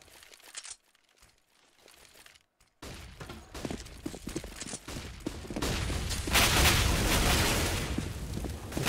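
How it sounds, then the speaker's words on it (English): Flashbang grenades going off in a Counter-Strike match on Cobblestone, a few sharp bursts at first and then a dense, loud crackling run of detonations and gunfire building toward the end. "Flashbangs overall."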